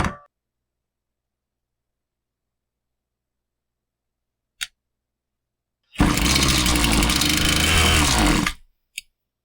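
A Husqvarna 525PT5S pole saw engine, set a quarter turn rich on both carburettor screws, roars loudly for about three seconds then cuts out abruptly, with a couple of short clicks before and after.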